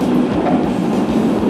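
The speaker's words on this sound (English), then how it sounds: "Hey, train coming from the other side." A New York City subway train rumbles past continuously, a dense low roar with faint rhythmic clatter of wheels on rails, loud and close throughout.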